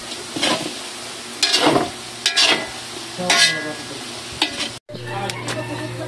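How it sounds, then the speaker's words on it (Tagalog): Kikiam and squid balls sizzle in hot oil for birthday pansit, with loud bursts of stirring and scraping at irregular intervals over a steady frying hiss and a low background hum. "piniprito na ni Mama yung kikiam at squid ball para lalong sumarap ang ating pansit mamaya"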